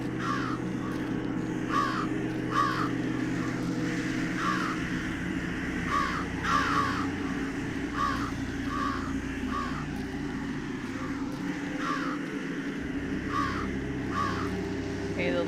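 Crows caw repeatedly in a nighttime scene of the video game Jenny LeClue, harsh calls recurring every second or so over a low droning ambience.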